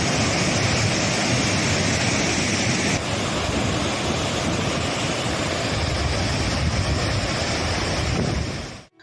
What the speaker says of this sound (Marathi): धरण ओव्हरफ्लो झाल्यानंतर सांडव्यातून पाणी प्रवाहित होऊन हेच पाणी पालेश्वर धबधब्याच्या स्वरूपात खाली कोसळू लागते